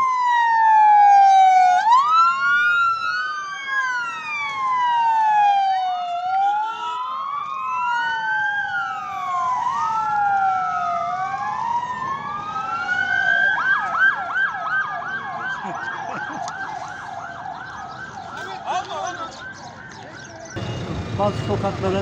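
An ambulance siren wails loud and close in a street of an earthquake-hit area, sweeping up and down in slow cycles before switching to a faster yelp pattern, with a burst of other noise near the end.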